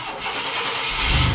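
Old red pickup truck engine cranking and catching, a brief rough turnover that rises into a loud, low running rumble close by.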